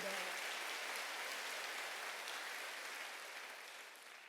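Church congregation applauding during a Wednesday worship service, a steady wash of many hands clapping at a moderate, somewhat distant level that tapers off gradually toward the end.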